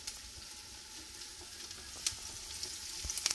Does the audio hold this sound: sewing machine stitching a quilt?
no